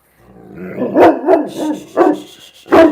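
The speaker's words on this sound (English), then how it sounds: "Hey, that's barking. That's not speaking." A dog barks close by in a short burst of four or five loud, sharp barks with brief gaps, alone with no talk over it.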